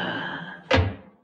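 A single heavy car door slams shut in an old 1961 radio comedy, a sharp thud standing out briefly and loudly above a low steady background.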